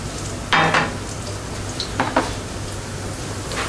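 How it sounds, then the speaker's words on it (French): Jerusalem artichoke and celery brunoise sweating gently in olive oil, a soft steady sizzle broken by a few louder stirring scrapes, close by with no talking. "Là, on va faire suer notre brunoise topinambour et céleri."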